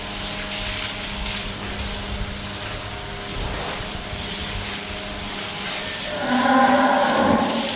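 Brahman cattle on a farm give long, low moos, one sustained call carrying over steady background noise, then a louder, brighter bellow toward the end, close by with no voices.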